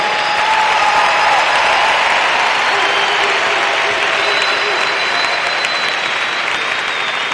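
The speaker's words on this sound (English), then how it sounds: "Please give them a round of applause." A large crowd at a high school graduation ceremony applauds steadily and loudly for several seconds, with scattered cheers rising above the clapping.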